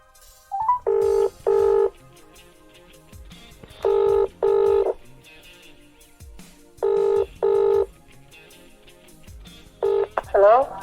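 Telephone keypad dialing tones sound in paired bursts with short pauses between groups, loud and close, followed by a brief rising electronic tone at the end.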